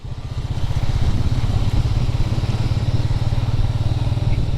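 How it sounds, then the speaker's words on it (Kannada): Loud, close motorcycle engine thrumming steadily while riding, with a rapid pulsing low rumble and faint wind noise throughout. "ನಮ್ಮ ಗಾಡಿ ಆರಾಮಾಗಿ ಹೊರಟೈತೆ"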